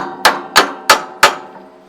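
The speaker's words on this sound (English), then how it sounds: "you're gonna start tapping it until you'll feel it break through the hole" A hammer taps a roll pin on an anvil for a quick-hitch repair, four sharp ringing metallic strikes evenly spaced, close and loud, each leaving a brief ring.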